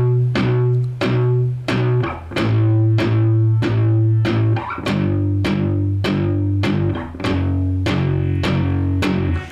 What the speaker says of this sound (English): apply that palm muting technique now to the little power chord